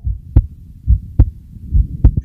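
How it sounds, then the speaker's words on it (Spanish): Heartbeat sound effect from a Spanish audiobook reading of Edgar Allan Poe's The Tell-Tale Heart: deep, muffled thumps in a steady slow pulse, three clear beats with a quicker double beat at the end, heard alone with no narration. "aquel latido se producía con redoblada fuerza cada minuto"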